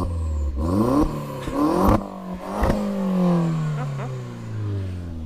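A Volkswagen Polo GTI engine with a Milltek sport exhaust revs up hard with a loud, throaty exhaust, rising and falling through several sharp bursts before settling into a steady rumble.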